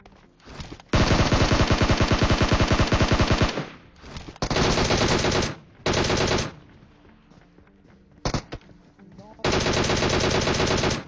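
Rapid automatic gunfire rattles in PUBG Mobile, coming in several long, loud bursts of fast repeated shots separated by short quiet gaps, with sparse single shots in between.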